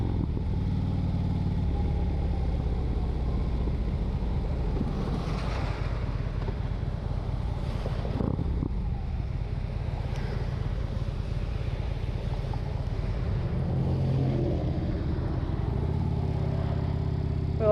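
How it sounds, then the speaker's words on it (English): Continuous engine drone and wet wind rush from a motorcycle riding through rain, steady and close throughout with slight swells. "this dude is crazy out riding a motorcycle in a freaking rain"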